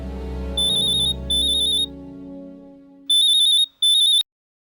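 A low droning tone fades out while a phone rings in four short electronic trill bursts, two early and two later, each bright and warbling with brief gaps between.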